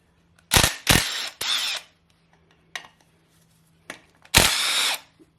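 A power drill whirs in several short close bursts, backing out T30 Torx bolts from a Mercedes E55 oil filter housing, with brief quiet gaps and clicks between bursts.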